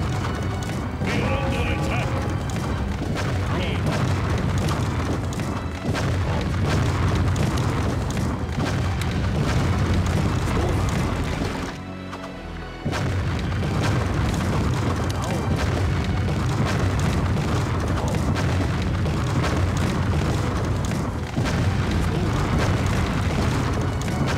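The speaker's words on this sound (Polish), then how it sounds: "strasznie głośne są te dźwięki wybuchów" Explosions during the siege of Troy in Empire Earth pound almost without pause, very loud booms overlapping with clattering mechanical noise as walls and a gate are attacked, with a brief lull near the middle.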